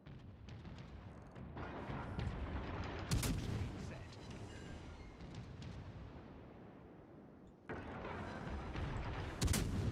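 Naval gunfire from warships in World of Warships Legends: heavy booming salvos and rumbling blasts rolling over a continuous battle roar, with a sharp loud impact near three seconds and another surge near the end.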